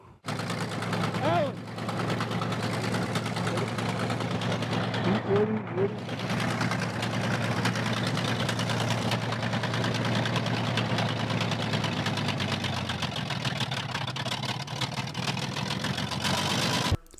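A large 1940s sawmill engine runs steadily with a deep, throbbing low hum while quarter sawing a big oak log, with brief voices and clanking noises briefly rising over it near the start.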